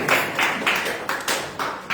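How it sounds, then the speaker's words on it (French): A church congregation claps together in a steady rhythm, about three claps per second, filling the room without any talking. "on donne des acclamations pour la parole de Dieu"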